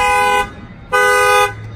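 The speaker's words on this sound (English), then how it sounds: "the factory alarm will fire off." A Ram truck's factory alarm goes off after its tailgate is opened, sounding two loud, close horn honks, the second longer, with a short gap between them.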